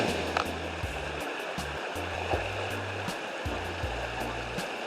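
River water running downstream, a steady broadband rush with no pauses, heard with low, intermittent rumbling bursts underneath.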